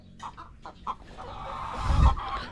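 Chickens cluck nearby in short bursts, followed by a louder low thump or rustle; no talking.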